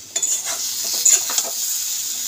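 A spiced curry base fries and is stirred in a pan, a steady loud sizzle with a few scraping spoon strokes and a clink against the metal.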